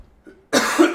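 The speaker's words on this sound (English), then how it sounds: "Man, I'm coughing a lot." A single harsh cough, loud and close, after a brief quiet moment with a faint breath.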